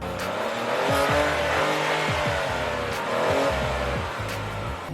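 A 2018 Ford Focus SE sedan with a hidden exhaust tip revs and accelerates through rising, shifting engine tones, loud and steady throughout the stretch, with no voices heard.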